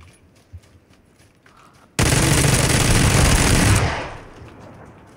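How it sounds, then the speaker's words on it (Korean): Gunfire in the video game PUBG (Battlegrounds) fires from up on a hill, a loud, dense sustained burst lasting nearly two seconds after quiet, then tapering off into a fading tail. "산 위에서 쏜다"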